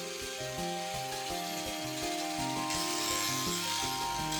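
Wood being trimmed and rasped on recycled wood shingles to dress Velux roof windows, a steady close scraping and sawing rhythm with strokes about twice a second, working indoors in a gatehouse.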